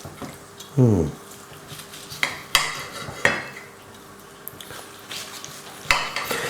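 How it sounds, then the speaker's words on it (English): A knife carves through a glazed Christmas gammon with a marmalade, mustard and honey glaze, giving sparse scraping cuts and light clinks against a plate or board, close and fairly quiet with no talking. "Now I'm just going to carve this up."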